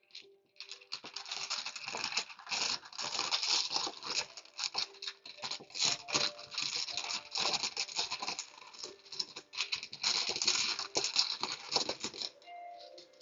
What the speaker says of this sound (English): Yes, that is the sound of people playing Mahjong.